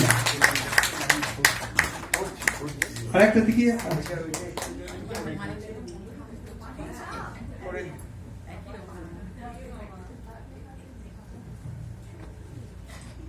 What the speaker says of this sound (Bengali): জোরে হাততালি কিন্তু খুব আস্তে আস্তে হচ্ছে